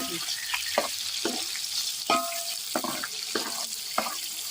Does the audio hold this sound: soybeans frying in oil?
yes